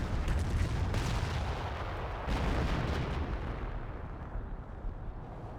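Artillery fire in Company of Heroes 1 during a multiplayer battle. Heavy booms roll over each other and form a continuous loud rumble, with several sharper blasts standing out early on, before the din slowly thins.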